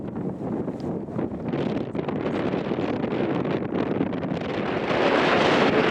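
Strong wind blows across a hilltop above a lake, buffeting the microphone with a continuous roaring rush that grows louder toward the end. No one speaks.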